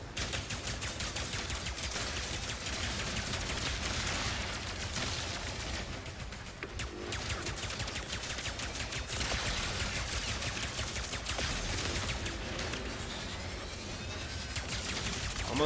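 Rapid gunfire from Ratchet & Clank: Rift Apart crackles in a dense, sustained stream, loud and near, with a couple of short breaks in the shooting.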